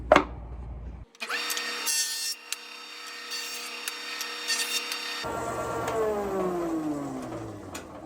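A wood board for a carpenter bee trap is fed through a jointer, the motor spinning up loudly and then a steady, whining cutter roar as the board passes, alone with no voices.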